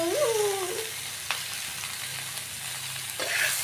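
Chili chicken gravy with Kashmiri red chili powder is stirred in a pan, a soft close sizzle with a few light scrapes, brief and fairly quiet.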